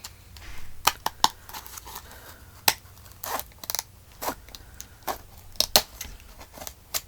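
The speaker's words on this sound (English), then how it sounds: "It's easier to get in here with long scissors." Long scissors cutting through the spine of a pocket file folder journal cover, a series of sharp, close snips and crunches spaced irregularly, heard alone.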